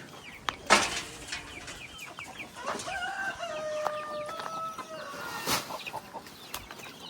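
Chickens in a garden cluck and squawk in short bursts nearby, with a few sharper calls and soft rustling in between.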